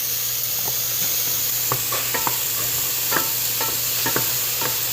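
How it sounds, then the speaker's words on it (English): Potatoes frying gently in oil in a pan, with a steady, even sizzle and scattered light clicks and taps of a utensil stirring them, close and alone without voices. "you're just gonna gently brown those potatoes there"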